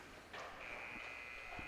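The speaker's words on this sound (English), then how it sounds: "There's the buzzer." A hockey game's start buzzer sounds at an under-18 rink game, a steady electronic tone held over the noisy arena crowd and echoing hall.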